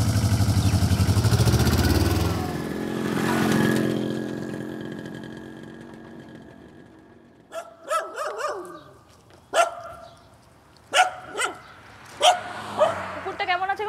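A dog barks in a run of sharp, separate barks that come every second or so in the second half, after a stretch of engine-like rumble and voices at the start.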